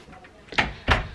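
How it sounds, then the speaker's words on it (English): A bedroom door in a college residence swings shut at night, two soft thuds in quick succession, the second a firm close, heard nearby with no talking. "Closing my door for the night."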